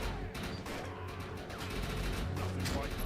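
Dense rapid gunfire bursts in the video game Defiance, with crashes and clatter, loud and continuous throughout, with a voice faintly underneath.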